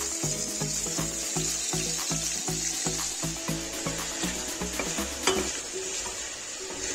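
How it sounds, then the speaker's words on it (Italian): Sliced shallot sautéing in a swirl of extra virgin olive oil in a pan, with a steady close sizzle broken by regular stirring scrapes and light clinks against the pan, continuous throughout. "Un giro d'olio evo e facciamolo rosolare per qualche minuto."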